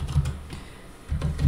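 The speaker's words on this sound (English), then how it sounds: "So next thing I'm going to do is I'm going to type in" A command is typed on a computer keyboard in Windows 10, a short close run of soft key taps in two small clusters with a quiet gap between, alone without speech.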